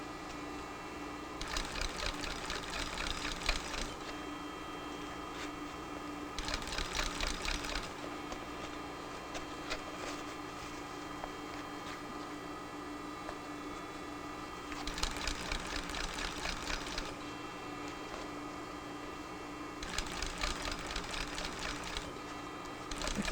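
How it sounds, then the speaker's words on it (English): A cylinder bed sewing machine stitching fabric in four short bursts of rapid mechanical whirring, each a couple of seconds long. Between them are quiet pauses with faint motor hum, all heard up close. "A cylinder bed sewing machine can make sewing round areas and bulky products so much easier."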